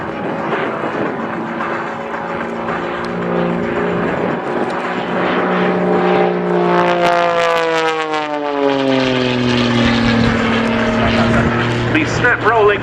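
A Pitts Special aerobatic biplane performs an airshow display at Scampton, its propeller engine droning loudly and sweeping in pitch as it passes, while a commentator talks throughout.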